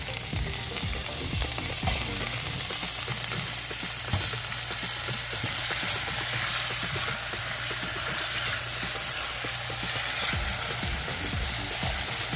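Potatoes and garlic fry loudly in a hot pan with a dense, continuous sizzle, crackling and spitting close up without a break and with no talking.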